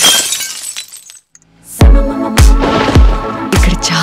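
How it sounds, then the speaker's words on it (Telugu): A glass bottle is smashed several times in quick succession, each sharp crash and shatter standing out loud and close, with a near-silent gap before the first break and no voices. "ముందు నీ ఎదురుగున్న బాటిల్ పగలగొట్టు"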